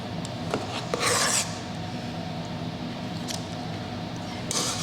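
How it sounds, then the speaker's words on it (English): Spatula scraping cupcake batter down the sides of a mixing bowl, soft repeated rasping strokes close by with a few brighter scrapes over a steady hum. "continue to scrape down the side to get it all in the middle"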